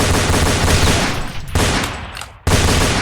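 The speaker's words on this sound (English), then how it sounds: "once you planted those weapons, you can actually shoot these mines and make them explode if you want" Rapid gunfire in the DOOM video game as planted mines are shot to make them explode, a dense burst of loud automatic shots with blasts, cutting off briefly twice before resuming.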